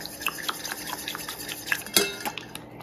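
A spoon stirs blue dye and Sola softener into a cup of warm water. Light clinks against the cup and small liquid swishes come at an irregular pace, with one sharper knock near the end.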